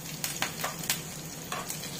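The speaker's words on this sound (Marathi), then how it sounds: "तडतडल्याशिवाय फोडणीची मजाच नाही" Curry leaves crackle and spit in hot oil during a tempering for South Indian curd rice, a close series of sharp pops over a steady sizzle with no talk.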